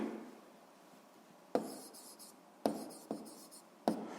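Pen writing on paper up close, a few short scratchy strokes separated by quiet pauses, no talk.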